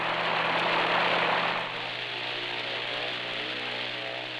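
A large Navy flying boat seaplane in flight: a steady, loud engine drone with a broad roaring hiss, slightly louder at first and then easing to an even hum throughout, with no speech.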